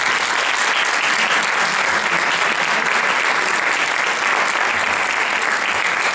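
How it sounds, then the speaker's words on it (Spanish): An audience at a presentation of a charity book for Alzheimer's claps in sustained, even applause, a dense, steady patter that holds at the same level from start to finish. "tras el calor de su aplauso, que no ha sido muy allá"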